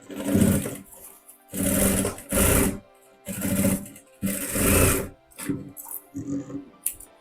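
Sewing machine stitching a zipper pouch, running in several loud bursts of about a second each with short pauses between them, close up and with no talk.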